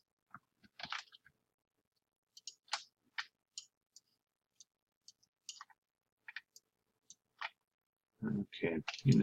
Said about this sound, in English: I'm clicking off of it by accident, I realize I'm doing it.